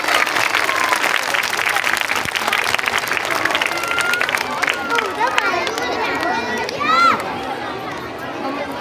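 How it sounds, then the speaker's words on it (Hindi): An audience at a school Independence Day event claps for the children, loud and thick at first, then thinning out, with scattered voices and chatter mixed in toward the end. "तो ज़ोर से क्लैपिंग करें तमाम बच्चों के लिए।"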